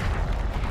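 A Confringo spell blasts off in Hogwarts Legacy, a single dense, booming explosive burst that fills the short moment with rumbling low-end energy.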